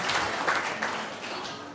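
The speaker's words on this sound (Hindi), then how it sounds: "उसके लिए एक बार ताली बजानी चाहिए" An audience at a career talk applauds, a dense burst of many hands clapping that fades slightly over about two seconds.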